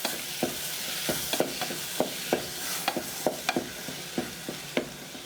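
Tomatoes cooking in a pot for tomato sauce, a soft sizzle under a series of sharp clicks and scrapes as a utensil stirs against the pot, fairly close and moderately quiet.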